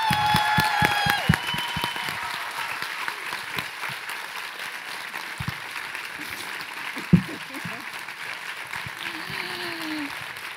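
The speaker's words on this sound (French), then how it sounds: "je vous demande de faire un tonnerre d'applaudissements à Gabriel Gagnon et Sylvie" Thunderous applause from a large audience at the close of a French-language neuroscience storytelling evening, dense and sustained for the whole stretch, with a few sharp louder claps and brief voices early on.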